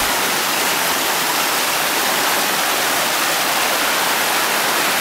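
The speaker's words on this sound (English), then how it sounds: "that's a Billabong and a waterfall this time of year" Waterfall pouring into a billabong after heavy rain, a loud, steady, broadband rush of falling water with no voices.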